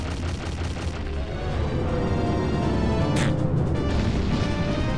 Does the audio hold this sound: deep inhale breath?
no